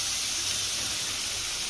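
Jackfruit pieces dropped into hot oil already tempered with cumin and mustard seeds, for a Godavari-style jackfruit curry, set off a steady, even sizzling hiss that stays close and constant throughout the short moment.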